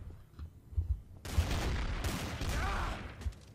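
Gunfire in the video game TTT: a sudden dense burst of shots breaks in after a quieter start and holds loud and rapid for about two seconds before tailing off.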